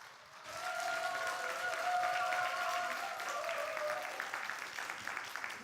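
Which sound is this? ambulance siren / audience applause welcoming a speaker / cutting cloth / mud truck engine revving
audience applause welcoming a speaker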